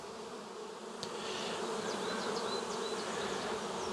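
Honey bees hum around beehives in a dense, fairly quiet swarm drone, with a few individual bees buzzing closer and fading past.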